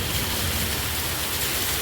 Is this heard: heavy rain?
yes